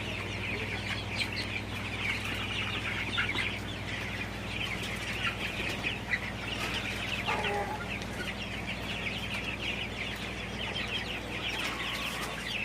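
Sonali super hybrid chickens on a farm cluck and chirp steadily in a dense, continuous flock chorus, moderately distant, with a low background hum.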